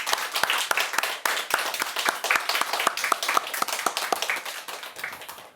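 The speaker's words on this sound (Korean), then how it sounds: "하나님께 영광의 박수." A church congregation claps in a sustained round of applause for several seconds, with sharp, fairly even handclaps in a reverberant room.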